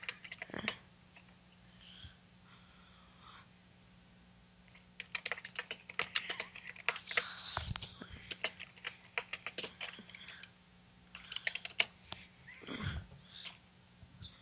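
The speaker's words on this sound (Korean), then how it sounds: "한번 타이핑해 볼까요?" Computer keyboard typing in a quiet room, bursts of light rapid key clicks separated by pauses, fairly faint and close, with a few soft sounds between.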